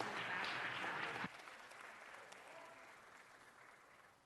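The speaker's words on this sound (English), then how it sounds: "Let's give Omar a round of applause" Applause from the audience at a city council meeting, a steady round of clapping that stops abruptly and leaves a quiet room tone.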